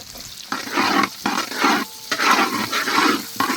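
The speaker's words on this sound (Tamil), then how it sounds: "நல்ல ப்ரௌன் ஆகிற முடிக்கு வதக்கணுங்க" Onions sautéing in a pan for chana masala, cooked until brown, give a steady hissing sizzle broken by bursts of stirring. The sound is loud and close, with short pauses between the sweeps of the spatula.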